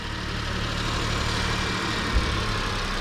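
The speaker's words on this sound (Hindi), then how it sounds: "अब इंजन की नॉइज़ देख ले, ये देखिए इंजन फिलहाल इसका ऑन है" A Tata Nexon Smart Plus engine idles steadily with the hood open, a constant broadband hum and low rumble that stays even throughout, close-up, with no voices over it.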